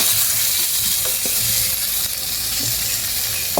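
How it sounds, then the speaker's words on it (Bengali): Fresh vegetables with green chili fry in a pan, a loud, dense, unbroken sizzle with occasional soft stirring knocks and no talking. "5 মিনিট ভেজে নেব"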